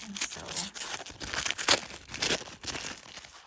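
Tissue paper and red ribbon crinkle and rustle as a wrapped TrollBeads gift box is opened, continuous close crackling and tearing with a few louder crunches.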